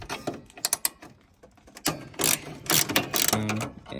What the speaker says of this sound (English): You're just going to need a 10 mil socket wrench.